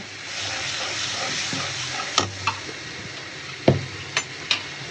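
Spice paste of ground ginger, garlic and cumin with chili and turmeric powder sautéing in a pan with a little water, a steady soft sizzle broken by a few sharp scraping stirs near the close.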